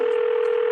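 Steady telephone dial tone, a single continuous pure hum held loud and unbroken throughout, with no voices.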